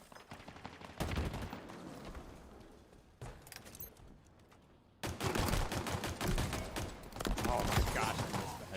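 Rapid gunfire bursts from the shooter game Halo Infinite, dense crackling volleys swelling and easing across the clip, loudest in the final stretch, with a voice talking underneath at times.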